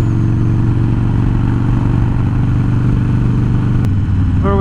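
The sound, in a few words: Twin Cam Dyna motorcycle engine while riding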